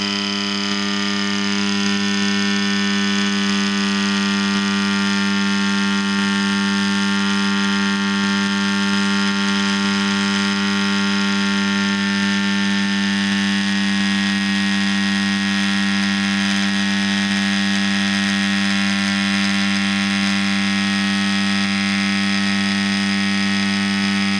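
A tattoo machine runs on a practice skin, giving a steady, unbroken electric buzz with a constant pitch that holds for the whole stretch, close and fairly loud, with no talking.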